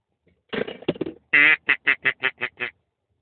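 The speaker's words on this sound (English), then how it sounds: "duck call" A hand-blown duck call used for duck hunting sounds a close, loud series of about nine nasal quacks: a few quick ragged ones, then an evenly spaced descending run.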